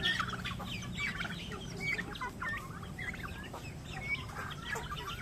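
Native and Rhode Island chickens and turkey chicks cluck and chirp repeatedly over a low background hum, many birds close by calling in overlapping bursts.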